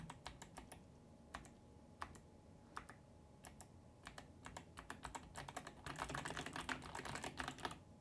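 Machenike K600 mechanical keyboard typed on up close, crisp separate key clicks that speed into a fast, dense flurry near the end, with no talking.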